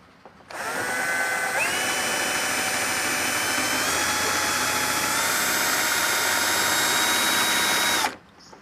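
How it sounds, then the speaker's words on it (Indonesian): Electric drill fitted with a large bit boring a hole for a Canon MP287 printer ink tube, a steady loud whine that spins up, holds for about seven seconds with slight pitch shifts, then stops abruptly. "Kita ganti untuk bor yang besar ya, supaya itu lubangnya agak besar"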